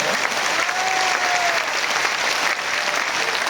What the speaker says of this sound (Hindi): हाथ ऊपर ताली बजाना है राम के नाम का, हरि के नाम का